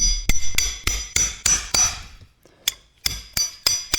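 Hammer blows mushroom the beveled end of a metal rod for a handmade metal rose: about eleven sharp, loud ringing strikes in a steady rhythm, with a short pause partway through.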